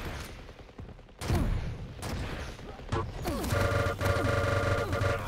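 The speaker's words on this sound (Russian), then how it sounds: "Красивые позиции берут для стрельбы с рейлгана." Weapon fire in a Quake match, likely railgun shots taken from long-range positions: sharp loud bursts with rolling crashes, followed by dense continuous game noise carrying steady tones.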